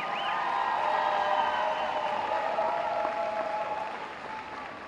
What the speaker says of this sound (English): Can we give one more round of applause for Coach Carter?